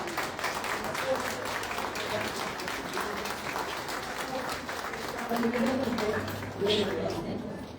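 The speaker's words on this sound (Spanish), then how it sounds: "les pido un aplauso para Alicia." Sustained applause from an audience at a tribute event honoring a painter, steady crowd clapping with some murmuring voices underneath throughout.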